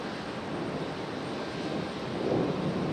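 Aeromexico jet airliner moving out at Raleigh-Durham International Airport, a continuous distant low engine rumble that swells slightly toward the end, with no voices.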